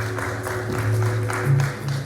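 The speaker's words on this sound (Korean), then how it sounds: "김홍준 책임 연구원님께 다시 한번 큰 박수 부탁드립니다." Applause from the audience at a Hyundai Nexo hydrogen car tech talk, a steady wash of clapping over low hum and faint background voices.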